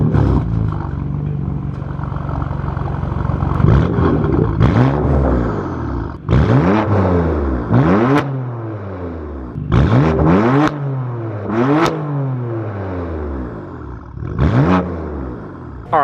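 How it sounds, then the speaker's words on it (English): Exhaust of a BMW F82 M4 fitted with a new front lip, revving repeatedly in sharp, loud bursts that rise and fall over a steady idling rumble, recorded up close with no talking. "let me get some exhaust clips for you guys as well"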